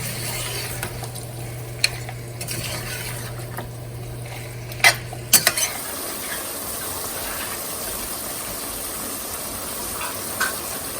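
Mutton karahi with tomatoes stirred and frying in a pan, a steady low sizzle with a few metallic scrapes and clinks of the utensil against the pot, louder knocks around the middle.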